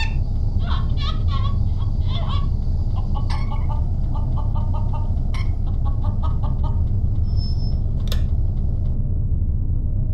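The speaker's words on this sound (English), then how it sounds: "here's the rooster I smuggled on board" A rooster in the PC game Voyage: A Journey to the Moon gives a run of quick clucks and squawks in short bursts over a constant low background hum, ending with a single higher call.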